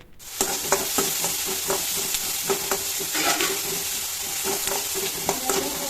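Chopped onion sizzling in hot oil with popping mustard seeds in a pan for a Kerala chickpea curry, stirred with a spoon. Steady close frying hiss runs throughout, with regular scraping stir strokes and occasional crackles.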